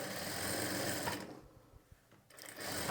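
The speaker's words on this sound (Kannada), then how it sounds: "ನೀವು ಡೈರೆಕ್ಟಾಗಿ ಒಂದು ಪಾಯಿಂಟೆಡ್ ಹೊಲಿಗೆನ ಈ ರೀತಿ ಸ್ಟಿಚ್ ಮಾಡ್ಕೊಳ್ಬೋದು" A sewing machine runs a pointed stitch along fabric piping, a close, steady mechanical whir that cuts out briefly in the middle, then starts up again.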